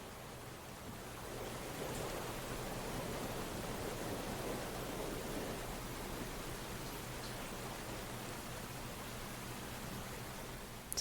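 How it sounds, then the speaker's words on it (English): Steady rain falling during a water ritual meditation, a soft continuous hiss that swells in after a moment and holds evenly, with no voices. "Take these final moments to simply be under the rain."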